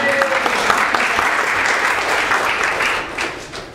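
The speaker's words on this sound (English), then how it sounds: "give yourself a round of applause." An audience at a university colloquium breaks into a loud, dense round of applause that holds steady before easing off near the end.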